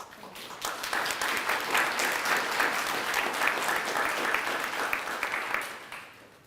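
An indoor audience claps steadily for about six seconds at a community zoning upgrade kickoff event, building quickly and tapering off at the end.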